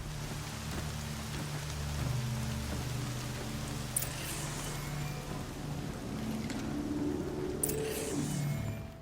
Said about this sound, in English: It's raining indoors!